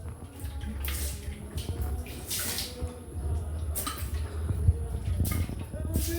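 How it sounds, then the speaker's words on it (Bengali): Iron-removing cleaning liquid poured into a household water tank during cleaning, a steady splashing, running-water wash that continues throughout, fairly close, with broadband bursts of pouring. "দেন আমরা এই আয়রন কিলার লিকুইডটা হচ্ছে ট্যাঙ্কের ভিতরে দিই।"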